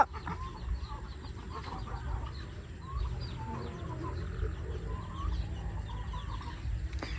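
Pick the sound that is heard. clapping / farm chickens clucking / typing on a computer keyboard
farm chickens clucking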